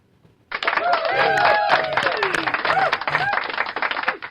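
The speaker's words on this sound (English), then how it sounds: "The clapping, bro." Clapping applause starts abruptly after a short quiet moment and carries on as a dense, continuous patter of many hands, with voices talking and laughing over it.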